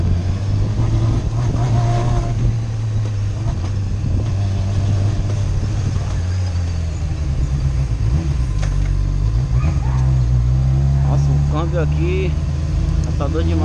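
Honda CBR600F motorcycle engine droning while riding, a steady loud hum that shifts pitch as it accelerates, with talking over it throughout.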